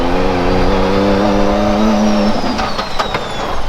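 A four-wheeler off-road vehicle races with a loud, steady engine drone that holds a high rev before dropping off, with brief sharp bursts near the end and no talking.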